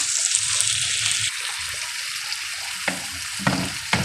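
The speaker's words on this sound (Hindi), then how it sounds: "अच्छी तरह से मसाला हमने भूनना है" Ground spice masala roasting in a pan for besan khandvi, with a steady sizzle and occasional scraping stirs sounding up close.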